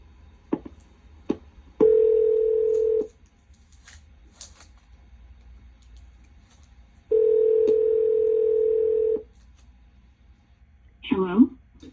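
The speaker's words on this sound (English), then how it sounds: "we're going to dial her up right now" Telephone being dialed to ring a caller: a few quick button clicks, then two long steady ringback tones separated by a pause, followed by a voice answering at the end.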